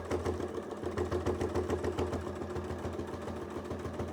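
A sewing machine doing free-motion quilting runs steadily and close by, a rapid, even mechanical hum and clatter that continues throughout with no talking.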